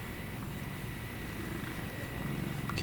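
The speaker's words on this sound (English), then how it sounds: "You're such a sweet cat." A female cat purrs in a steady, close, continuous rumble throughout, with no one speaking over it.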